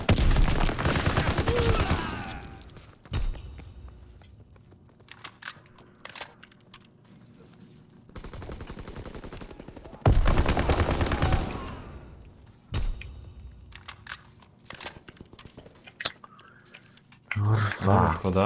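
MP40 submachine gun fire in a PS4 video game: several loud bursts of rapid automatic shots cluster near the start and again midway, with quieter single reports between them.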